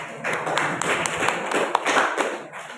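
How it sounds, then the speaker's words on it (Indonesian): A classroom audience claps for a student group in steady, dense applause lasting the whole stretch, with a few sharper taps standing out from the even patter. "kita berikan kembali aplaus untuk kelompok 4"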